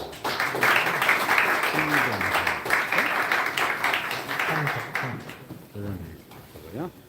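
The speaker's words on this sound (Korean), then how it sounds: "나오실 때 큰 박수로 맞이해 주시면 좋겠습니다" Audience applause at a church pastors' forum general assembly welcomes the returning representative to the stage, a broad clapping wash lasting several seconds with a voice talking over it and fading near the end.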